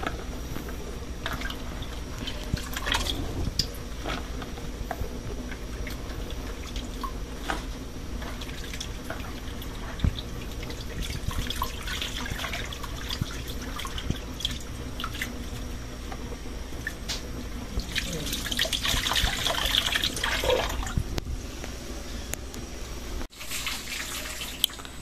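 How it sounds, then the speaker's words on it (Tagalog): Running tap water splashes steadily into a sink while a banana heart is washed, a continuous close hiss with occasional drips and wet squishing from handling, swelling briefly louder toward the end. "At si Kuya po naghuhugas na po ng ating puso ng saging."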